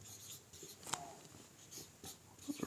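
A pen or marker writes a word during a Hindi-Urdu English grammar lesson, giving faint, short scratchy strokes in a few separate bursts over a quiet room.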